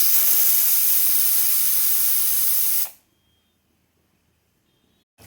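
A pressure cooker holding chickpeas and potatoes vents steam in a loud, steady hiss for about three seconds, then cuts off sharply into near silence, with a faint click at the end.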